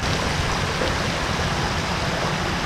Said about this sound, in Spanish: aquí donde están las letritas es donde hay como pequeñas cascadas